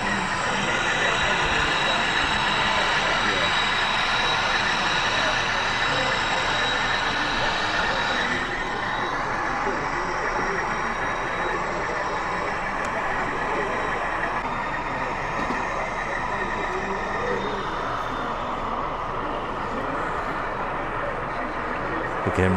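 Steady, continuous rumble and whir of Hornby model railway locomotives with onboard sound running around a club exhibition layout, a constant mechanical drone with faint shifting tones under hall ambience.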